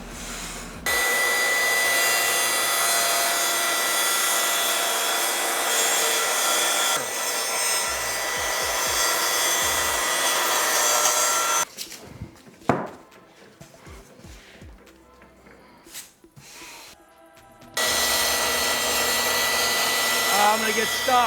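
Power saw cutting wood for miter joints in a workshop, a loud steady whine running for long stretches, stopping, then starting again after a pause filled with quieter handling noises.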